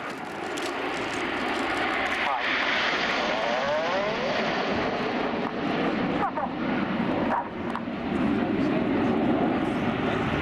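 Red Arrows jets fly past in formation at an air show, a loud continuous roar that swells and holds across the whole stretch with a broad wash of engine noise, with no voice over it.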